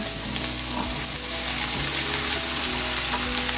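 Poha frying in a pan with potatoes over the stove, a steady close sizzle with spoon scraping and stirring strokes running through it, no voices.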